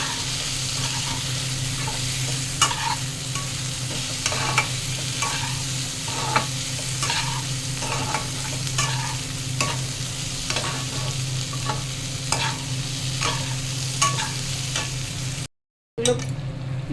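Garlic frying in a pan, a steady soft sizzle with periodic scrapes of a spatula stirring, close and even throughout, cutting out briefly near the end, no talking.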